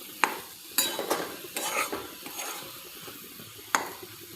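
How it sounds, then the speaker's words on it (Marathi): Semolina roasts in a pan as a spoon stirs and scrapes it in a handful of distinct strokes over a soft, dry sizzle. "याला मी छान असं परतून घेते"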